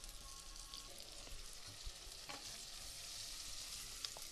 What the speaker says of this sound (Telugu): ఈ వంకాయలు ఆయిల్ లో బాగా మగ్గిపోవాలండి